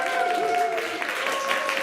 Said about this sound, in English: A round of applause for the Gay Liberation Front as well.